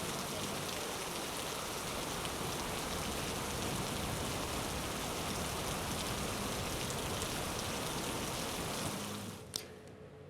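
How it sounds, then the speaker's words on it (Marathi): Heavy rain falling across the Pavana dam catchment, a dense, steady roar of drops that holds at full strength throughout and eases slightly just before the end. "पवना धरणाच्या पाणलोट क्षेत्रामध्ये दमदार असा पाऊस सुरू आहे"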